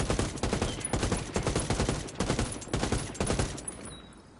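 Automatic rifle fire in Ghost Recon Wildlands with recoil held in check, a rapid string of sharp, loud shots in tight bursts with brief gaps, ending in a short quiet tail.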